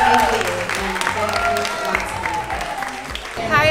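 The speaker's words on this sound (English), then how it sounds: "let's give one more round of applause to them" Brief round of applause from a crowd at a Mommies with Motivation community event, moderately loud clapping that stays steady before a voice speaks at the end.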